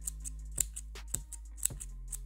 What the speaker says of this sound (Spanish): con las mismas tijeras ir cortando los bordes para que queden del mismo tamaño